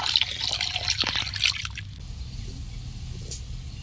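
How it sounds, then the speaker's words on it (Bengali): Water is poured into a pan of fried spices for a thin fish curry, a loud wet rushing splash for about two seconds that then settles into a quieter steady simmer-like hiss. "সব মশলা ভালো করে কষিয়ে নিয়েছি এবার জল দিয়ে দিব ঝোলের জন্য"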